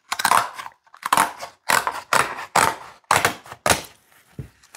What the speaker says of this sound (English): You can cut it with scissors.